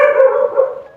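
A dog at home gives one loud, close, drawn-out bark that trails into a whine, alone with no talk.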